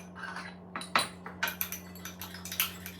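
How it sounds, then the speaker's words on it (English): A utensil stirring honey into a healthy, high-protein fruit dip gives a series of light clinks and scrapes against a bowl, irregular and fairly close, over a faint steady hum, with no talking. "then you're just going to go ahead and mix that up"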